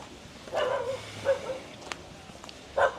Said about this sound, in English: No dog, you don't have to bark, I'm not trespassing.